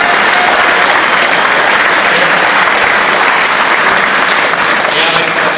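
Big round of applause from a UKIP South East conference audience, loud and steady clapping filling the hall without a break.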